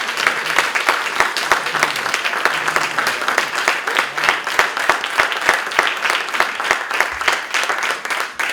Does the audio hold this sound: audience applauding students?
yes